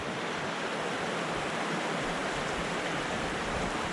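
A small brook trout stream in Central Pennsylvania runs in a steady, broadband rush of flowing water, loud and unbroken with no voices.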